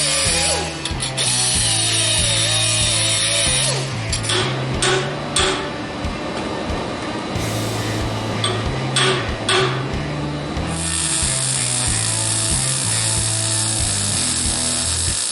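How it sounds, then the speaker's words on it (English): A power tool cuts through tack welds on a steel tensioner bracket for a twin Eaton M-90 supercharger build, producing a loud, sustained mechanical whine and grind that pulses and breaks off briefly several times. "I'm just going to cut these 2 tack welds on the face side and tap that down until this is level"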